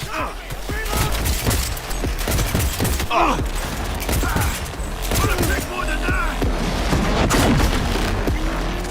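Shock ammo gunfire in Cyberpunk 2077, dense rapid volleys of shots and booms with crackling impacts, loud and continuous over the whole stretch, mixed with mechanical clatter and bits of voice.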